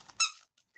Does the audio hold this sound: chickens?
no